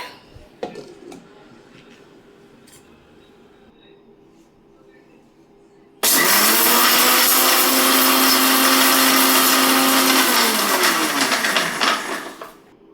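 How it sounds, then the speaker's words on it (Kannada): A mixer grinder whirs through roasted dried red chillies: after a few quiet clicks and handling sounds, the motor roars loud and steady for about six seconds, then winds down. "ಇವಾಗ ಇದನ್ನು ಒಂದು ಸರ್ತಿ ಗರ್ರ ಅನ್ನಿಸ್ಕೊಳ್ಳೋಣ ಮಿಕ್ಸಿ ಒಳಗೆ"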